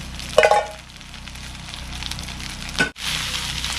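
Rice stir-fries in a pan with garlic and shrimp fat. A burst of sizzling opens, then settles into a continuous low crackle, with scraping stirs and a brief dropout near the end.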